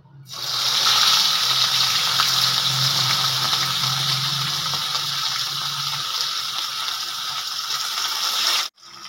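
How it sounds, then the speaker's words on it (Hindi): Fish dropped into hot oil in a pan, setting off a loud, steady hiss and sizzle that starts abruptly and holds for several seconds before cutting off. "ऑयल भी हमारा गर्म हो चुका है। तो मैं इसके अंदर फ़िश को डाल दूंगा।"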